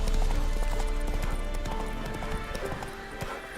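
Roach, Geralt's horse in The Witcher 3, gallops with steady, close clip-clop hoofbeats that run loud throughout, a brief whinny rising partway, with a game soundtrack humming underneath.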